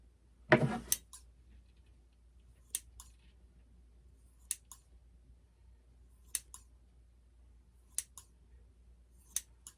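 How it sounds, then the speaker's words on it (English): Scissors cut wet toilet paper with a soft snip at first, then a series of crisp, spaced clicks follows at a steady, unhurried pace in quiet surroundings. "You want to be able to cut through wet toilet paper."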